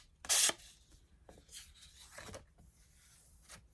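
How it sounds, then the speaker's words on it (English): A fine emery board rasps across the fuzzy trimmed edge of a paper craft piece: one loud, sharp scrape near the start, then several softer filing strokes at close range. "If your trimmer leaves little fuzzies on the edge, just a fine emery board takes them right off."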